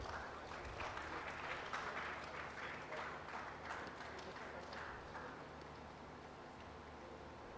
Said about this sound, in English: Give a big round of applause to him.